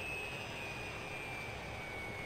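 A helicopter engine from Farming Simulator 2015 drones as a steady, faint turbine whine over broad rushing noise, unbroken and alone.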